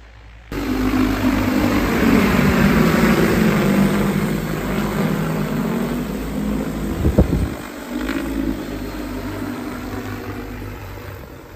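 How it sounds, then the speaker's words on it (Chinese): A propeller crop-spraying airplane passes over a soybean field, its engine drone rising in and holding steady for several seconds before fading slightly, with a brief louder thump near the end; no one speaks. "这块黄豆飞机飞回来也完事儿了，这飞的是真快呀"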